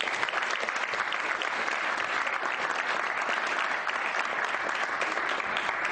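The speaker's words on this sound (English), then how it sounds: "thank you for the applause" Loud, dense audience applause fills a live stage show in Murfreesboro as a performer is welcomed for his first on-stage set. The clapping is steady and sustained throughout, with no voices over it.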